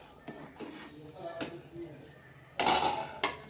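Egg pulao is stirred in a pressure cooker, with quiet metal scrapes and clinks of a spoon against the pot and a louder clattering burst near the end.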